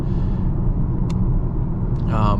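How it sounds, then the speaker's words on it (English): Steady low road rumble fills the cabin of a 2024 Volvo XC40 while cruising at speed, a constant droning hum with a brief faint chirp partway through. "pipe in just a little bit of road noise"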